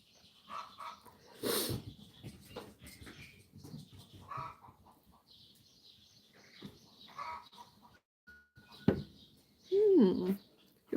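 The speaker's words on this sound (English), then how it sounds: "You want to see my puppies?" Puppies give a few short, sharp barks and yips at moderate distance, scattered among quieter rustling and faint voices in a home setting.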